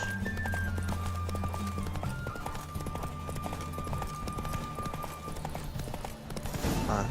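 Geralt's horse Roach gallops in The Witcher 3, with steady clip-clop hoofbeats at a quick rhythm, fairly faint, under game music and effects.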